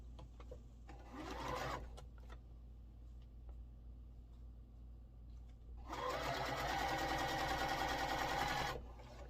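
A sewing machine stitching quilt block seams for a sailboat block runs in two bursts, a short one early and a longer, louder stretch later, with quiet pauses between.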